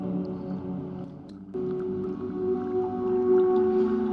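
A GForce MAP synthesizer patch sustains a watery, tonal drone, briefly dipping before re-entering fuller, with faint droplet-like noise blips scattered on top.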